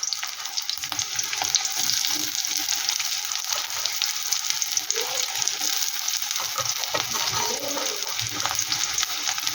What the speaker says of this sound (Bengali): এটাকে ভালো করে আমি একটু ভেজে নেব